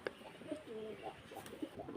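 Young pigeons coo softly nearby in short, quiet bursts, faint against a low background hiss.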